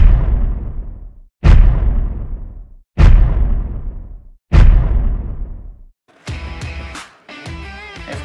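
Four loud, close suppressed shots from a PSA AK104 Kalashnikov-pattern rifle, each a sharp crack with a decaying boom, evenly spaced about 1.5 seconds apart, followed by clattering metallic handling sounds.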